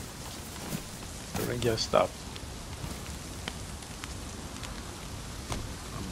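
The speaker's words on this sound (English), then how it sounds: "I'm standing around in the rain." Rain falling steadily in The Last OutBreak video game, a continuous soft patter and hiss throughout, with people talking over it.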